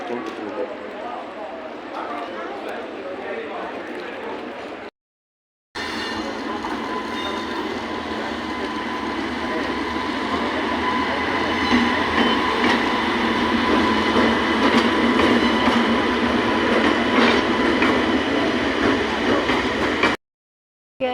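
A train rumbles past loudly with rhythmic clattering wheels, building in intensity and holding steady, broken by two short silent gaps.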